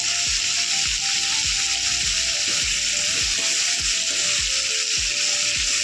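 Dried red chillies fry in a hot pan for an Indian ivy gourd chutney, a steady loud sizzle with a dense crackle and repeated low scraping knocks as they are stirred, with no talking.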